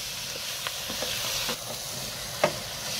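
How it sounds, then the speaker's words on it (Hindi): Noodles with masala powder stirred in a hot pan, a steady sizzle and hiss with occasional soft scrapes and clinks of the spoon, nearby and moderately loud, no voices. "अच्छी तरह से इनको मिक्स कर लेंगे।"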